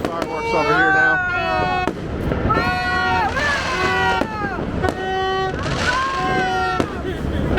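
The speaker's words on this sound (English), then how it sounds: "All right, we got a few fireworks over here now." New Year fireworks exploding outdoors, a series of sharp bangs followed by whistling, crackling trails, several bursts in irregular succession, loud and fairly close, with a person talking excitedly between them.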